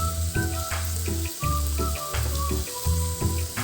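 Vegetables frying for khichdi in a pan with a little water and spices such as cumin and coriander powder. A steady, close, watery sizzle pulses unevenly.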